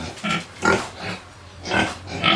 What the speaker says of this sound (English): We have over 10 pigs now, 11 pigs.